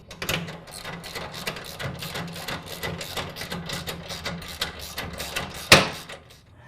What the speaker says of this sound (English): I'll retighten those bolts that attach the transmission to the frame